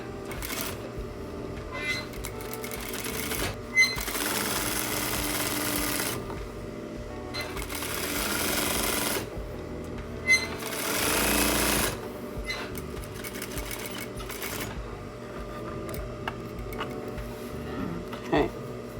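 A sewing machine stitches pajamas in bursts of steady mechanical whirring, stopping and starting several times, with a person talking in between.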